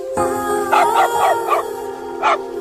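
A dog barks and howls in a run of yelping, drawn-out cries over a steady tonal hum, close and fairly loud with no talking.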